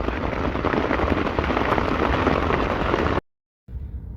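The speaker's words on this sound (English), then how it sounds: "But no, it's a lot of rain." Heavy rain pours steadily onto a campsite tarp, a dense, loud hiss with pattering drops that runs unbroken for about three seconds before cutting to near silence, then resuming faintly.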